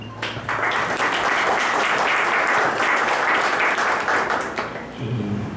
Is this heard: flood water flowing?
no